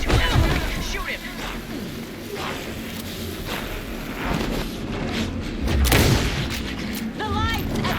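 Gunfire in the video game Alan Wake 2: dense, booming shots and heavy thuds roll on without a break over a loud, noisy combat soundscape, with occasional voices mixed in.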